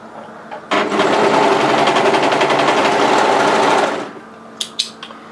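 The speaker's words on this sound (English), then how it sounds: "I'm going to start by overlocking the short edge." An overlocker sews the short edge of a folded sweater band, a fast, loud, even stitching rattle for about three seconds, followed by a few quiet clicks.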